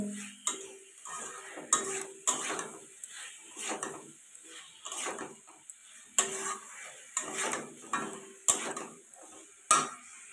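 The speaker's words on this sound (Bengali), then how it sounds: "ভেজে রাখা পটল আলুটা দিয়ে দিলাম, দিয়ে ভালো করে কষিয়ে নিতে হবে।" Fried pointed gourd and potatoes stirred in a pan with a spatula, repeated scraping and clinking strokes in an irregular rhythm, close and clear with no talk.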